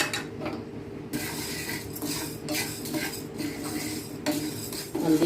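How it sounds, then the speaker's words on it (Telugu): Urad dal dry-roasted in a pan, with a continuous rattle and scrape of lentils and a spatula moving against the metal, close and busy, and a louder clatter at the end. "మినపప్పు వేయించుకోవాలి"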